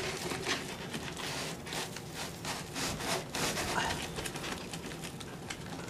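Aluminum flexible dryer vent pipe is pushed and crumpled into place, giving a continuous scraping, rustling metallic crinkle in bursts, close and fairly loud, with no talking.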